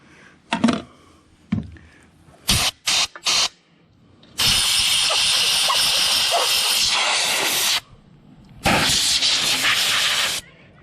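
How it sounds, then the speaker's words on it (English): Compressed air blasts from a nozzle, blowing dirt away from a carburetor on a high-banking dredge's water pump: several short sharp puffs, then two long loud steady hissing blows close by. "What I'm trying to do is keep from blowing dirt in the carburetor, so I'm blowing away from it."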